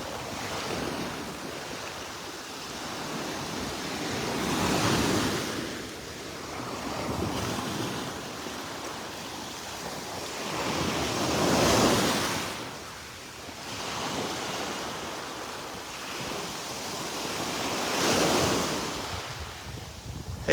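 Ocean surf breaking on the beach at Delnor-Wiggins, Florida, with waves swelling and crashing in three broad surges over a steady wash and light wind noise on the microphone, and no voices.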